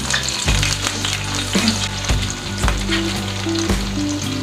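Onion paste loosened with a little water fries in a kadai for mustard hilsa, giving a loud, steady, close sizzle broken by periodic stirring scrapes.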